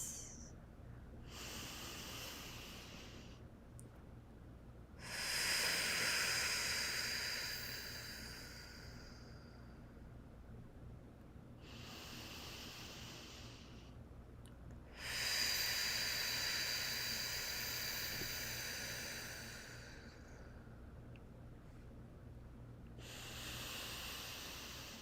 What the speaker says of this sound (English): Join me in taking a few deep belly breaths